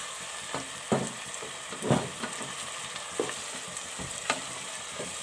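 Boiled, mashed turnip sizzles steadily in a hot pan as it is fried and stirred, with soft scraping strokes about once a second close by and no talk.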